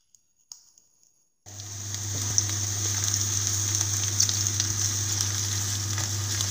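Onion sautéing in a pan, starting after a second of near silence with a few clicks, then a steady close sizzle with a strong hum and light crackles, no talk.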